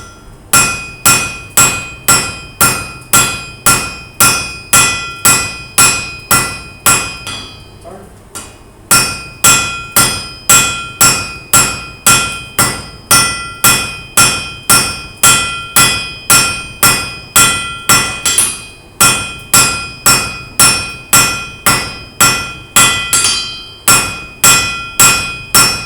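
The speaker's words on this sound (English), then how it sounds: "And we'll start hammering out." A blacksmith hammers hot steel on an anvil in fast, regular bursts of ringing metallic strikes, loud and close, with brief pauses between runs.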